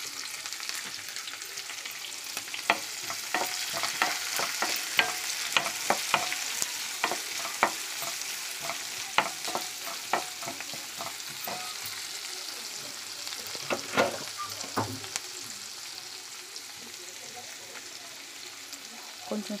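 Chopped onion and two green chillies fry in a pan for a kids' lunch-box dish, a soft steady sizzle broken by frequent sharp clicks and scrapes of a stirring spoon, fairly faint.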